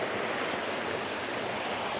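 A waterfall on a hike in the Lake District, heard as a dense, steady roar of rushing water that fills the clip, loud and close with no talking.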